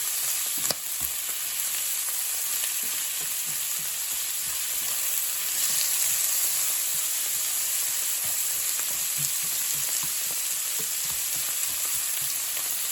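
Sliced onions fry in a pan for yakisoba, giving a steady close sizzle with scattered stirring scrapes and taps as they are broken up, no voices.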